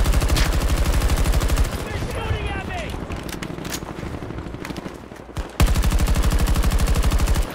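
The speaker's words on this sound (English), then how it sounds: "They're shooting at me!" Gunfire in the video game Battlefield 2042: loud, sustained rapid automatic bursts that break briefly midway and then resume, with a voice heard over the shooting.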